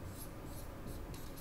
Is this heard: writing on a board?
yes